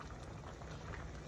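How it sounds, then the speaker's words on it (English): Ofe Owerri soup enriched with palm oil bubbling in a pot, a steady dense crackle of boiling without pauses, close and moderately loud. "So allow that to boil for some time as well."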